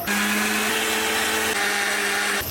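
A kitchen blender whirs steadily while blending juice, running loud and close for about two and a half seconds before cutting off, with no talking over it.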